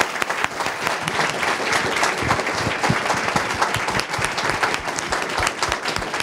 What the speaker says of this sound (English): Perhaps a last round of applause to our 10 networks represented here.